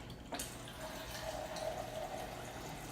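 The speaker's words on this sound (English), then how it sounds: "Then we're adding balsamic vinegar, and they use equal amounts." Balsamic vinegar pours steadily into homemade BBQ sauce, a thin continuous liquid stream starting after a brief pause and running close and moderately quiet to the end.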